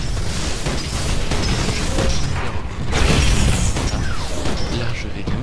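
A rocket salvo fires in the video game Titanfall amid dense, loud combat noise, with continuous booms, bursts and mechanical clatter that swell around the middle.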